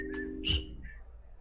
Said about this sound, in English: That was barely a whistle.